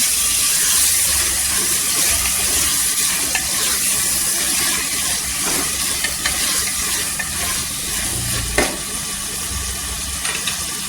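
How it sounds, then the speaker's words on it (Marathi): Green peas and small cut potato pieces sauté in oil, a loud, close, continuous sizzle with steady scraping and rattling from stirring in the pan. "छान असं तेलावर परतून घ्यायचं."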